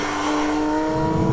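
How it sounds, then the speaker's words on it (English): Porsche 992 GT3 with its naturally aspirated 4-litre flat-six engine holds a loud, close, steady high-revving tone with a smooth rising pitch, heard alone. "this naturally aspirated 4-litre flat 6 engine is totally linear"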